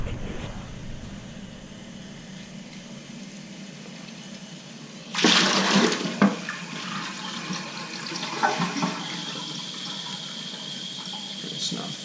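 Water runs in a constantly running toilet tank during a repair in Tempe, Arizona, a steady faint trickle that swells into a louder rushing gush midway, then settles into softer running with small knocks.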